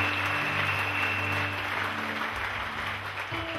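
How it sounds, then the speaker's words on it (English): Congregation applause during a church service in Cameroon, a soft wash of clapping under sustained organ or keyboard tones, fading slightly toward the end. "Clap for Lord Jesus Christ."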